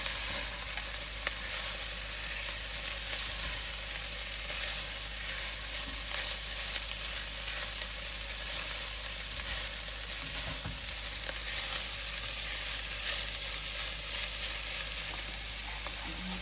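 Garlic sizzles steadily while frying in a pan, a continuous close, even hiss with small crackles and occasional stirring, no talk over it.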